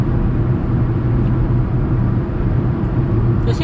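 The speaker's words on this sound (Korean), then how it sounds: "노면소음 많이 올라옵니다." A Kia Morning Urban compact car drives at night with a steady, loud, low tire and road rumble filling the cabin throughout, unbroken and without talk.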